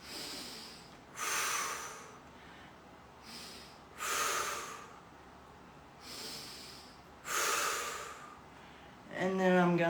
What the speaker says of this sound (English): I'm gonna breathe in my nose.